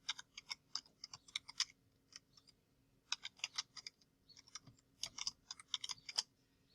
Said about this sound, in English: I'm going to go ahead and start typing